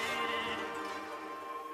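In the video game Okami a sheep gives a drawn-out wavering bleat, close and clear, trailing off over a couple of seconds with no talking.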